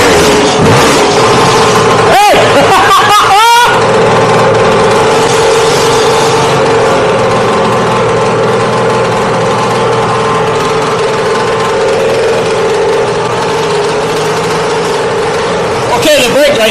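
A Lambretta TV175 Series 3 scooter engine runs steadily close by, a continuous two-stroke drone with a few sharp blips early on and again at the end.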